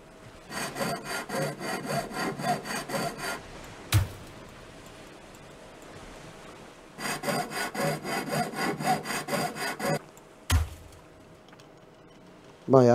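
A saw grinds through ship metal in Ship Graveyard Simulator, two long runs of steady rasping strokes separated by a quiet gap, with a few sharp clanks and thumps between and at the end, close and prominent.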